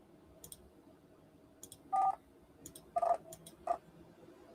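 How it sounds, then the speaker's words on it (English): Telephone keypad tones on a virtual Android phone running inside Linux: three distinct DTMF beeps spaced about a second apart, with faint clicks between them and no talking. "We were calling numbers on a virtual phone."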